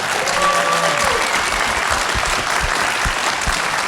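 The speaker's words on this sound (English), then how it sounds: "So how about a round of applause for everybody on that staff?" A convention panel audience bursts into applause, a dense, loud and steady clapping from a large crowd that fills the room throughout without letting up.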